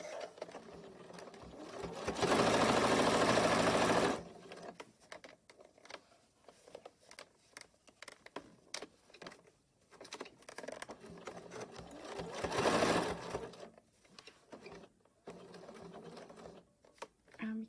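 A sewing machine runs a 1 cm seam allowance on a beginner's fabric sewing basket, with two loud sustained bursts of stitching separated by quieter handling noises and pauses.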